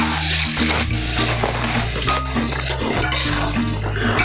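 Boiled tapioca is stirred together with pork masala in a pot, a spoon scraping and clanking against the metal in quick repeated strokes amid a faint sizzle, over a steady musical bed.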